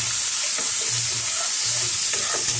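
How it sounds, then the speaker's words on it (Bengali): Boiled potato is stirred in a frying pan under a loud, constant hiss of hot oil, with soft, uneven scraping and stirring strokes close by and no talking. "একটু ভাজা ভাজা হলে আলু সিদ্ধটা এর মধ্যে দিয়ে দেবো, দিয়ে নাড়বো।"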